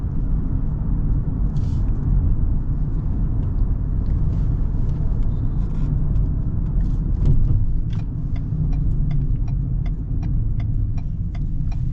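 A 2024 Ford Bronco Sport Badlands with a 2.0 engine rumbles steadily from inside the cabin while driving, a loud low drone joined by light ticking and rattles.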